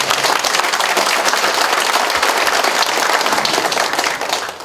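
Large audience of city and provincial councillors and residents at an Icheon mayor's township visit applauds heartily, loud continuous clapping that fades slightly at the end.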